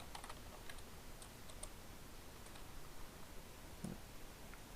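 Rapid keystrokes on a computer keyboard, a steady run of light clicks with a few sharper taps, close and alone over a faint room hiss.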